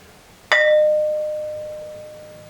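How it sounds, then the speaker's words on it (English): A stone struck once and ringing like a bell: a sharp strike followed by a clear sustained tone that decays slowly over two seconds, close and alone. "this thing really rings like a bell, and it reverberates for quite a long time"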